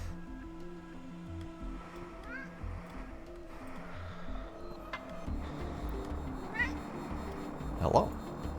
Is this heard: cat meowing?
yes